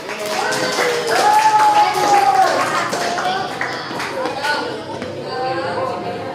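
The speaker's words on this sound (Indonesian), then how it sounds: "Silakan kita beri tepuk tangan." A class claps after a group presentation, scattered hand claps of moderate loudness mixed with children's voices and chatter, including a higher voice calling out.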